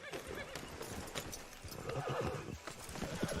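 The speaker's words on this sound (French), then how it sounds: "Ah, mon cheval fait n'importe quoi." In Red Dead Redemption II, a horse clip-clops along with steady hoofbeats and gives a whinny, fairly soft, while a quiet voice murmurs faintly underneath.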